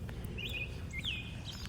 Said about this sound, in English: here we can hear the different birds and the plane